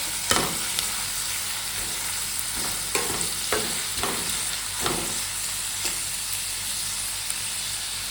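Ghugni masala frying in a pan while being stirred: a continuous hiss and sizzle broken by repeated scraping strokes of a spoon against the pan at an irregular pace.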